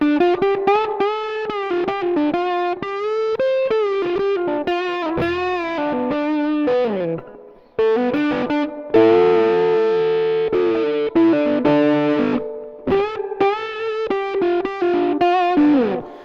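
Distorted electric guitar with the tone knob rolled fully down, giving a dark, muffled tone playing sustained chords and melodic lines, continuous and fairly loud throughout.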